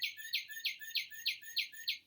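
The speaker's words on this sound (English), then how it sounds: "This is a cardinal. That's a male cardinal because it's all red." Male northern cardinal singing a clear, loud run of repeated whistled slurs, about eight even phrases in quick steady rhythm, close and alone against a quiet background.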